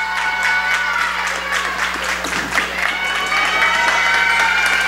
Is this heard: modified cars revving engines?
no